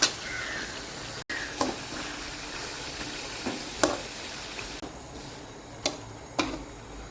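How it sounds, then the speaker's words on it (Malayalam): Chicken frying in a pan as it is stirred and turned, a low sizzle under a series of sharp clicks and knocks from a utensil against the pan, spaced out and fairly quiet, with no speech. "നല്ലതുപോലെ ഇളക്കി ഇടയ്ക്ക് തിരിച്ചും മറിച്ചൊക്കെ ഇട്ട് ഇളക്കി."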